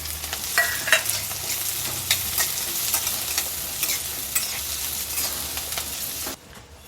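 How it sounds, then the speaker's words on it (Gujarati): Chopped onion and green chillies frying in a little hot oil, a close, steady sizzle with stirring scrapes that runs throughout and cuts off near the end. "હવે આ તેલ સેજ ગરમ થાય એટલે આ ડુંગળી અને લીલા મરચાં નાખી દઈશું"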